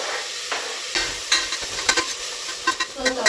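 Tomatoes go into a hot pan of softened onions for vegetable sambar, bringing a sudden sizzle followed by repeated stirring scrapes and knocks, close and fairly loud, with no speech.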